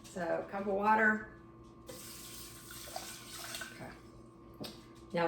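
A cup of water runs into a pot holding half a cup of black lentils, a soft splashing hiss lasting a few seconds, quiet and close, after a brief spoken remark.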